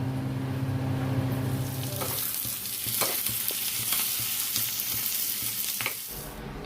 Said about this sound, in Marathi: शोभा इथे तेलामध्ये कांदे भाजून घेते कांदे लाल होईपर्यंत भाजावे लागतात आणि सारखं ते चमचा फिरावं लागतो